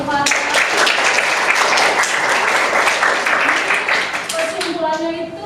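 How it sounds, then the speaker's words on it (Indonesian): A classroom group claps together in a short burst of applause, dense at first and then thinning out as a voice begins speaking over the last few seconds. "Oke, tepuk tangan Bapak."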